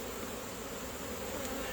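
Honeybees hum in a steady, dense buzz at an open hive full of honey as it is readied for winter, sounding continuous and fairly close with no break.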